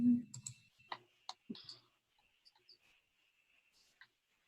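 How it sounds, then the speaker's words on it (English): Computer mouse clicking while opening the participants list in a video meeting: a few sharp, quiet clicks spread across the moment, with a brief low bump at the start and mostly silence between. "Let me click on participants."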